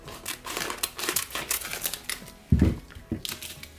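Scissors snip off excess adhesive vinyl liner laid on a cutting mat during a Cricut craft project, giving a run of close, crisp crinkling cuts with one louder crunch partway through.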